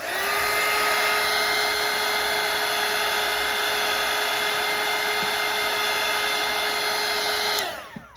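A hair dryer blows close and loud on wet watercolor paint, a steady whining roar held for about seven seconds before it switches off and winds down.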